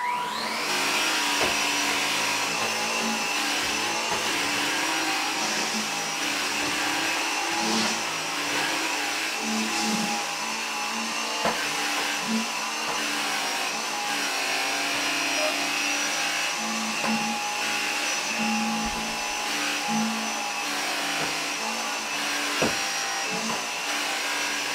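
A Gtech Air Ram cordless vacuum cleaner runs across a hard floor, a steady close whine and whir lasting throughout, with occasional small knocks and rattles of debris being picked up.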